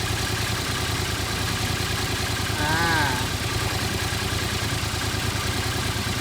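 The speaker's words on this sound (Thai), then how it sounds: "เครื่องยนต์เงียบกริบนะครับผม" A stock 2015 Yamaha MT-07 motorcycle engine idles with a steady, quiet, even hum that runs unchanged through the whole stretch, while a voice briefly murmurs a sound partway through.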